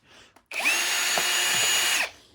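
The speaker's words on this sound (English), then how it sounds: "So now you have 2 more Phillips screws in here that you want to remove so you can get the cover off." Power screwdriver backing Phillips screws out of a Shark NV501 vacuum, a brief click and then one steady, loud whirring run of about one and a half seconds that cuts off abruptly.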